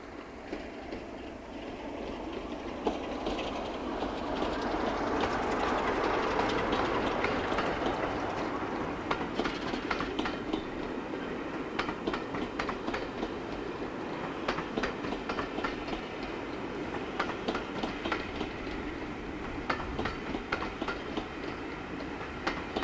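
A freight train hauling industrial sand to glass-making plants on a 1990s British Rail line rumbles past steadily, with a rising roar and rhythmic clicking of wagons over rail joints throughout.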